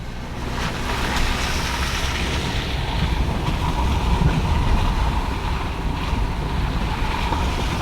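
A car drives along a rough, sketchy mud road through a valley, giving a steady, loud rumble of engine, tyres and wind noise that runs unbroken from start to finish with no voices.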